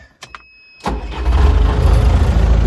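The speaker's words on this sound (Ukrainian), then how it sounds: "Заводю трактор." A tractor engine cranks briefly with a starter whir and catches, then settles into a loud, steady low rumble, heard during repair work on a tractor's hydraulic system with an NSh-32 gear pump.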